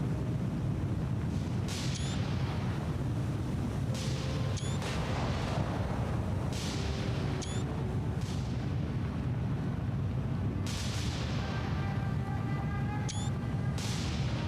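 Big naval battleship guns fire in the War on the Sea video game, several deep booming salvos spaced a few seconds apart over a constant low rumble of ocean and engine noise.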